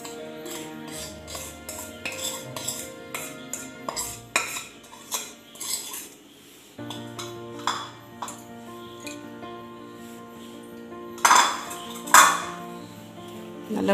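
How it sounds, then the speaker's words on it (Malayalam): Powdered sugar and butter being stirred in a bowl for coconut cookie dough: repeated close clinks and scrapes of a metal spoon against a dish, irregular and steady over many seconds, with a couple of louder knocks near the end. "അതും കൂടെ നമുക്ക് ആദ്യം നല്ലപോലെ ഇളക്കി യോജിപ്പിക്കാം"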